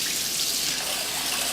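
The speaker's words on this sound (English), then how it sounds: "I like to let the water run a little bit, get a little warm." Kitchen tap water running steadily to rinse rice, a close, even hiss of flowing water with no speech.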